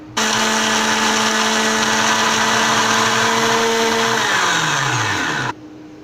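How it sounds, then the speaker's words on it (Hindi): A blender whirs loudly and steadily for several seconds while grinding whole spices for chicken haleem into powder, then winds down as the motor stops. "अब इसको मैं ब्लेंड कर लेता हूँ, अच्छे से पाउडर बना लूँगा।"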